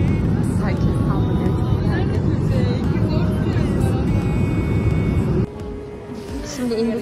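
An airliner lands at Madrid airport, a loud, heavy cabin rumble that drops sharply in volume toward the end, with voices talking over it.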